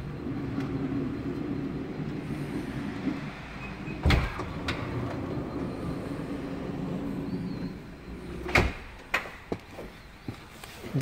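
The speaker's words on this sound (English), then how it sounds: "The back two doors can be operated from these switches." Electric sliding rear doors of a 3500cc Nissan Elgrand run with a steady motorized whir and rumble, closing in two sharp clunks a few seconds apart, recorded up close.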